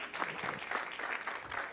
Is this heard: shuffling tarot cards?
no